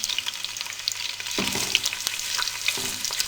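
Finely chopped onions hitting hot oil with whole spices, a continuous crackling sizzle with a few louder stirring scrapes, close and with no talking.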